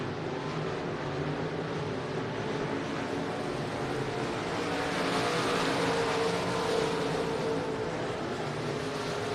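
Southern Sportmod race cars at Kennedale Speedway, a continuous loud roar of several engines at racing speed that swells slightly and stays steady with no talk.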